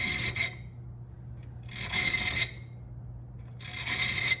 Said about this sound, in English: I'm taking a chainsaw file, and there's kerf on this choil too that I want to get rid of